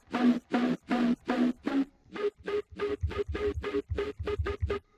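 Synthesized bass played unfiltered in repeated short growling notes, first a lower run of five then a faster higher run, alone with no talk.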